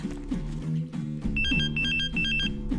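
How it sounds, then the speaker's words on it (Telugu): A telephone rings in repeated electronic bursts, loud and close, with a steady melodic ringtone pattern and no talking over it. "ఒక్క నిమిషం ఆగండి రా, ఫోన్ వస్తుంది."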